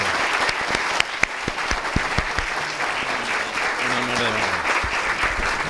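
A crowd at a legal conference applauds in welcome of a Supreme Court justice, with dense and sustained clapping throughout and a voice briefly speaking over it.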